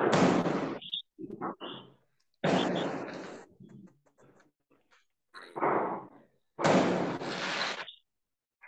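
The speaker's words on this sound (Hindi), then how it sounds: "आपको आवाज सुन आ रही है पटाखों की।" Sharp Diwali firecracker bangs burst in quick succession, several loud blasts separated by short gaps, with softer pops and crackles in between.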